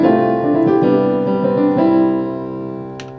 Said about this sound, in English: So for right now I'm using the superior grand and it sounds like this.